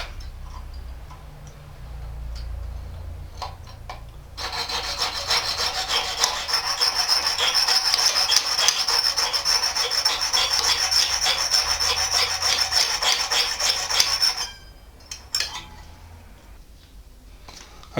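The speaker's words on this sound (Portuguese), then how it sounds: "Agora eu vou serrar aqui e deixar um sobrando aqui para formar o rebite" Hand saw cutting through metal to leave a stub for forming a rivet during a padlock repair, a steady fast rasping back-and-forth stroke running about ten seconds, close and loud, then stopping.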